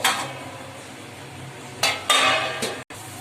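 Onions for an egg fry stirred in a pan over a medium flame, with a few clanking spoon-on-metal scrapes and short scraping bursts against a quiet kitchen background, close and fairly loud.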